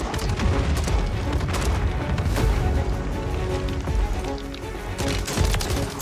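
A grenade launcher fires in Warzone amid dense gunfire, loud repeated booms and sharp cracks packed close together for several seconds, with no talking.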